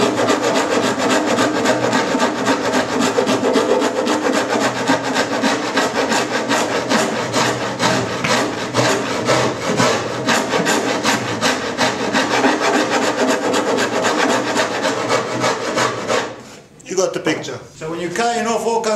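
Hand rasp filing wood during construction of a proa boat: steady, rapid back-and-forth scraping strokes sound close and loud for about sixteen seconds before stopping abruptly, followed by a few brief handling noises.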